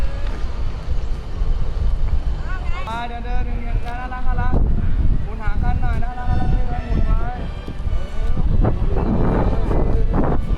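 Wind buffets loudly against flapping cloth outdoors, a constant roaring rush across the whole stretch, while people talk and shout over it.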